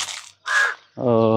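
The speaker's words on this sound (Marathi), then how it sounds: "कावळ्याचा आवाज पण येत असेल," Two harsh crow caws from a tree, one after another with a short gap, followed by a different tonal, harmonic sound that may be a voice.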